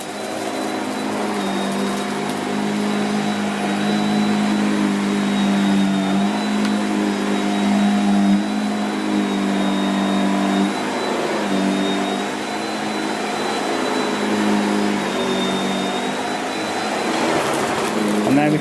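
A Shark Powered Lift Away NV681UKT upright vacuum runs on carpet, loud and close with a steady motor whine and rushing airflow throughout, the pitch wavering slightly as the floor head is pushed back and forth.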